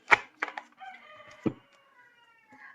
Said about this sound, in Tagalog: Tumitilaok.